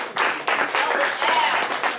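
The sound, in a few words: audience applause for Elder Ariel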